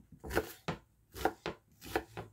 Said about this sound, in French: je coupe également grossièrement l'échalote comme ceci